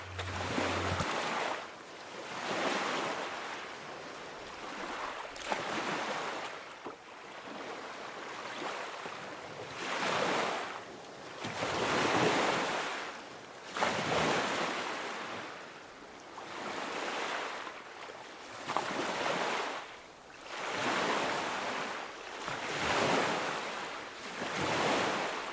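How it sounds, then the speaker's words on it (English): Ocean waves break on the shore at Fort Myers Beach at low tide, surging and retreating in a steady rhythm of roughly eight washes, close and loud, with some wind buffeting the microphone. "I think it's time for the beach to do some talking"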